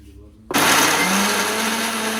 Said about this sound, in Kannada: ಇವಾಗ ಇದನ್ನು ಚೆನ್ನಾಗಿ ಮಿಕ್ಸಿ ಮಾಡ್ಕೊಂಬರೋಣ